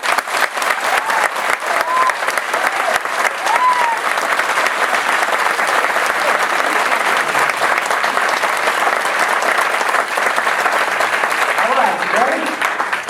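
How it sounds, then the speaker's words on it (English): A gala audience in a theater giving a long, hearty round of applause, dense and steady clapping that fills the room throughout. "if we give them just one more hearty round of applause."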